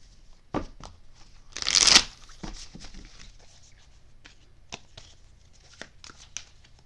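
Tarot cards are riffled in a brisk shuffle with one loud burst, then scattered soft card taps and slides. The sounds are close, with no talking.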